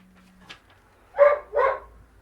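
A dog barks twice in quick succession at home, two short, close, fairly loud woofs after a faint click, with quiet surroundings otherwise.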